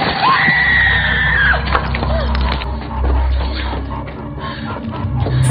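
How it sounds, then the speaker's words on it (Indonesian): Window glass shatters in a tense horror-film scene, a loud crash with scattered splintering debris and high ringing shards, backed by a low rumbling score. "Saat bersembunyi di dapur, kaca jendela pecah."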